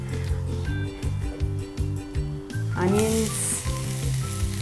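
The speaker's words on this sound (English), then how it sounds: "I'm going to saute all of it until the onions become lightly soft" Curry leaves, onions and asafoetida sizzle steadily in hot oil in an Indian home kitchen, a continuous close frying hiss with a flare-up midway, heard alongside a rhythmic tonal music bed.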